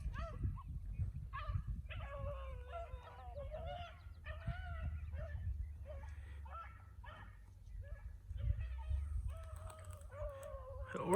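A pup and other hunting dogs chase a big runner near a fence, letting out repeated bursts of yelping barks and bays at moderate distance over a low outdoor rumble.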